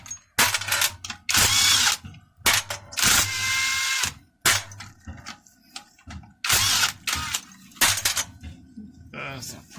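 Bolts being removed from a 4180e transmission valve body with a power tool: repeated short bursts of whirring and ratcheting close up, separated by pauses with clinks of metal parts.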